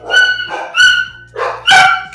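A dog's barks, four loud close yaps in an uneven rhythm with a faint low hum underneath.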